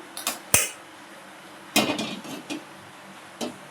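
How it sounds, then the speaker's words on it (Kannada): A few sharp metallic clanks of a cooking pot being set down on a stove, isolated knocks separated by quiet pauses. "ಒಂದು ಪಾತ್ರೆ ಇಟ್ಕೊಳ್ಳೋಣ"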